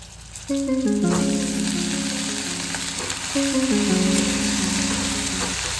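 Eggplant sizzles steadily in a hot pan, a constant crackling hiss with faint stirring and a tonal hum in the background.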